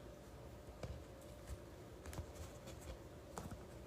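A deck of tarot cards is shuffled and cut close by, soft papery swishes broken by several sharp light taps and flicks over quiet room noise, with no talking.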